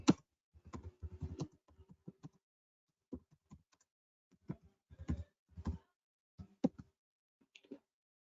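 Someone typing on a computer keyboard, irregular bursts of close, crisp key clicks separated by short pauses, in a quiet room with no talking.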